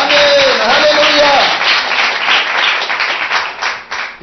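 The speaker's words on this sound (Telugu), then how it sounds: "ఒకసారి చప్పట్లు కొడదాం ఆయన కొరకు" Loud clapping from a congregation at a church sermon, fairly close and dense, starting under a brief sung or spoken tone and then carrying on alone before it fades.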